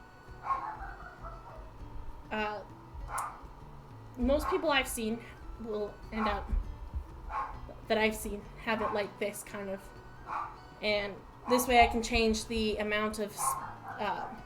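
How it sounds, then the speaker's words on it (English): A pet dog barks intermittently in the background while a person talks steadily nearby during a charcoal and oil pastel drawing session; the barks are faint and partly masked by the voice. "Sorry if you hear my dog barking."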